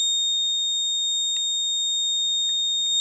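A piercing high-pitched electronic whine from a tablet holds steady throughout, loud and constant, with faint clicks and a bit of background murmur beneath it.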